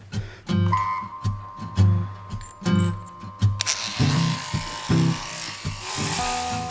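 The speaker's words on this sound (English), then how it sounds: "I don't put a lot of pressure on the handpiece when I'm doing the bottom leg" An electric shearing handpiece cuts alpaca fleece on the lower back leg, its motor humming and buzzing close by in uneven bursts as the blades work through the wool, with brief rustles and pauses between strokes.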